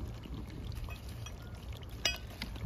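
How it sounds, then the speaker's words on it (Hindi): Water poured into a cooking pan with onion, curry and green coriander: a steady splashing pour with a brief metallic clink partway through, close and continuous. "पानी जितना डालना है आपने वो डाल लें"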